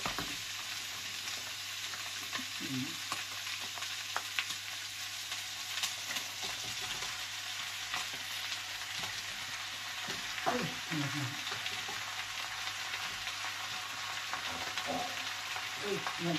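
Bottle gourd (upo) sizzling and frying in a pan with sardines and chicken, a steady hiss throughout with occasional stirring scrapes and a few faint voices in the background.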